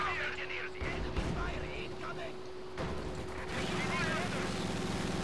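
Gunfire and explosions in the video game Company of Heroes 2, a dense rumbling battle bed of bursts and distant blasts that continues throughout, with voices talking over it.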